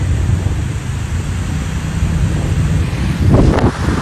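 Strong wind buffets the microphone at Ganpatipule beach, with a steady roar of sea waves and surf underneath, loud and continuous throughout.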